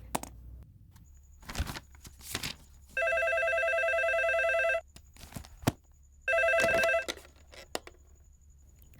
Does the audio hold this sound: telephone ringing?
yes